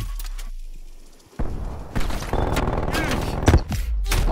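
Sentry turret in Call of Duty Cold War firing a sustained burst of rapid gunfire, loud and dense after a quieter lead-in, with other game sounds mixed underneath.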